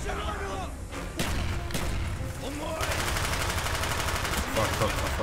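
Call of Duty combat gunfire, rapid automatic bursts and scattered shots crackling densely over a constant rumble, loud and continuous, with a voice shouting amid the shooting.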